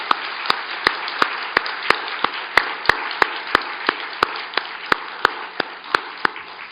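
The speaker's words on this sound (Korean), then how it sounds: "하나님께 영광의 박수를 올려드리겠습니다." Church congregation applauding together in a steady, loud wash of clapping, punctuated by sharp regular claps that stand out in a roughly even rhythm throughout.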